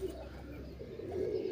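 Pigeons out in the early morning sky give a faint, soft cooing over a quiet background, with no talking.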